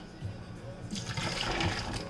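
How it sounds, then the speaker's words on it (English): Liquid drained from grated potatoes is poured off quickly from a bowl, a brief close splashing gush of water rising over a low background hum. "We're going to pour that off really fast."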